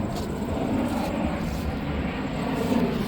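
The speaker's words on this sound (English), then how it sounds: "Oh man, look at that plane." An airplane drones steadily overhead, a broad continuous engine roar filling the background without a break.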